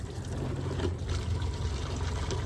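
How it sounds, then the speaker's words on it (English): Coolant pours from the opened overflow reservoir of a BMW E90 radiator into a catch pan, a steady, close splashing trickle with no talk. "if you open up the reservoir cap, the overflow, it'll come pouring out"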